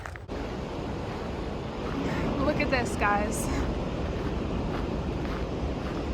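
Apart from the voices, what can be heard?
ocean waves surfing on the Big Sur coast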